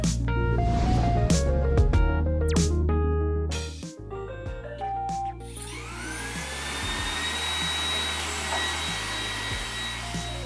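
An iRobot Roomba 980 robot vacuum cleaner starts up after a few seconds of background music and keeps running with a steady whirring motor hiss and a thin high whine, moderately loud and close.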